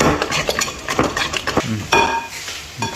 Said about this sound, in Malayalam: നമുക്ക് നന്നായിട്ട് മിക്സ് ചെയ്ത് എടുക്കണം കേട്ടോ